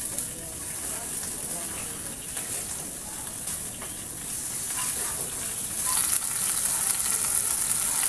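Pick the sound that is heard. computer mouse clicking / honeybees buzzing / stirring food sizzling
stirring food sizzling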